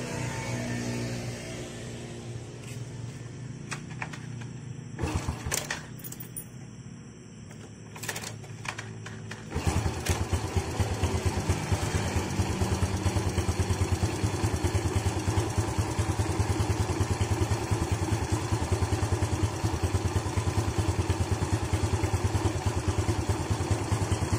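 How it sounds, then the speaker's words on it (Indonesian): An old Yamaha Vega R motorcycle with a full-wave charging modification sputters through a few start attempts, then catches and settles into a loud, steady, rattling idle heard up close. "Kita coba nyalakan dulu motornya"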